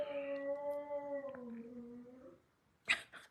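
Dog howling indoors, one long, drawn-out tonal howl that slowly falls in pitch, fairly quiet, followed by a short sharp clatter near the end.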